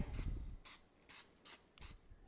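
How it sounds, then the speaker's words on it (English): Four short hissing bursts of baking spray onto a 9-inch pie plate, evenly spaced, close and fairly loud, with a light clatter at the start. "I have a standard 9-inch pie plate here, little baking spray."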